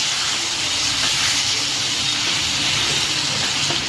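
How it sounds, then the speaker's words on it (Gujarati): Mixed vegetables sauté in oil over a low gas flame, giving a steady, loud, unbroken hiss and sizzle that holds level throughout, with no voices. "અને હવે એને બધું મિક્સ કરી દેવાનું આપણે. થોડી વાર એને સાતળવા દઈશું."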